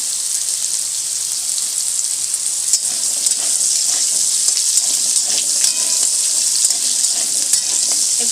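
Potatoes deep frying in hot oil until well browned, a loud, dense, continuous sizzle that stays close and even throughout with light crackling spatter and no talking.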